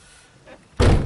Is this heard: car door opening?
yes